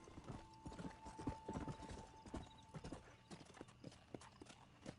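A horse's hooves clip-clop in Red Dead Redemption, a quick repeating trot close up with a brief whinny and a faint tonal hum behind, quiet overall.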